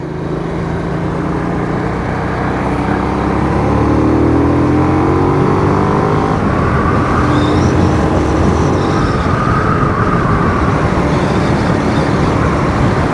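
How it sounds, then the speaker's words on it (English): A small Hyosung GV250 motorcycle of 250 cc accelerating on the road, its engine droning loud and steady with rising pitch over rushing wind, heard without any voices. "look at the acceleration this has got for just a 250"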